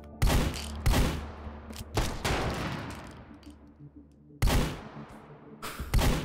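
Loud gunfire bursts in the VR shooting game H3VR, several close, sharp volleys and rapid strings of shots separated by brief gaps, with decaying echoes between them.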